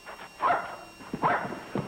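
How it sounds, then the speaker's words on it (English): A dog gives two short, close barks a little under a second apart, with a faint third yelp at the end. "What's the matter with Dog?"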